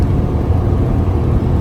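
A Renault Kiger with a 1-litre three-cylinder turbocharged 100 hp engine accelerating in sport mode, heard from inside as a loud, steady low rumble with no distinct rise.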